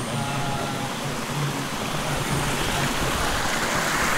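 Water from a mountain spring near caves on Mt. Banahaw flows in a steady, close rushing wash that continues without a break.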